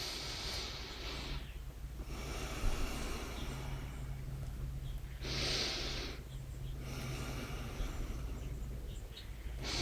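Slow, deep breathing during a guided exercise: long hissing inhales and exhales close to the microphone, about three full breath cycles, alternating with quieter pauses over a faint steady hum.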